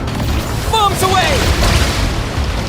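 Bombs exploding in the video game Genshin Impact: a dense, rumbling wash of blasts fills the whole stretch, with a brief voice cry rising through the middle.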